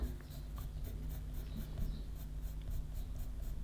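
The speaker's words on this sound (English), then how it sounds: "do little strokes like that to give that kind of eyebrow hair kind of look." A pencil making quick little strokes on paper to draw eyebrow hairs, a close series of rhythmic scratchy swishes repeating steadily over a low background hum.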